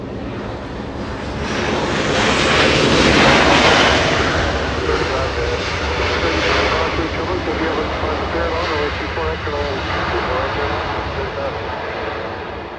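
A Lufthansa airliner rumbles at Los Angeles International Airport, a broad, steady jet roar that swells in the first few seconds and then holds loud throughout, with wind buffeting the microphone and radio chatter faintly underneath.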